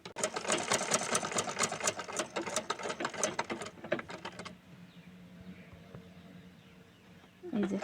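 A sewing machine stitches fabric for a round dress with a rapid, loud mechanical whirring chatter for several seconds, then stops, leaving quieter handling noises before a brief burst at the end.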